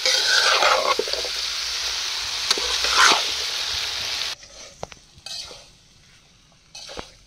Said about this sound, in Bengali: সিঙ্গারার জন্য আলু ভাজা শেষ